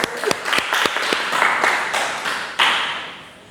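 Students clap together in a classroom, a few sharp individual claps at first giving way to steady group applause that fades out toward the end.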